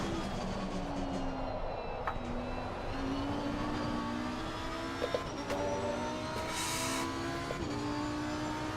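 Lamborghini GT3 race car in Assetto Corsa Competizione at Watkins Glen, a loud steady engine drone rising in pitch through several gears with brief shift breaks, heard up close throughout.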